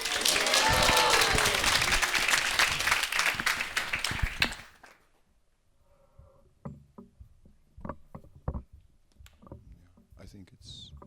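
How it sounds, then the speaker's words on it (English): A spiritual gathering of an audience in Krishna Consciousness bursts into loud applause and cheers for a visiting swami, dense clapping that stops abruptly after about four seconds, followed by scattered quieter sounds, shuffling and talk. "I'd like everybody to warmly welcome him with a round of applause and Hari Bols."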